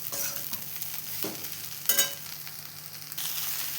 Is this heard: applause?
no